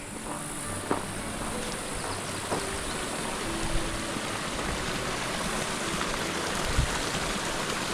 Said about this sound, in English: a babbling brook.